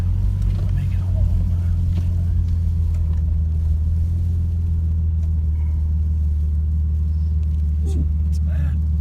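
A Jeep with full-time four-wheel drive pushing through a snowstorm, a heavy steady low engine and road rumble heard from inside the cab, with someone talking over it.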